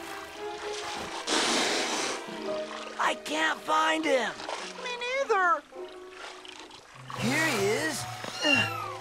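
A cartoon kitten mews repeatedly while stranded in water off a beach, its high wavering cries rising and falling in several bursts amid background music and effects.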